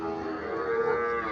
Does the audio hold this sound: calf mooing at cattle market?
yes